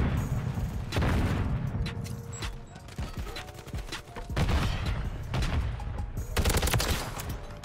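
Rapid bursts of gunfire from the video game Call of Duty Modern Warfare 3, loud and near, coming in repeated volleys with short gaps across the whole stretch, with heavy low thumps and no talking.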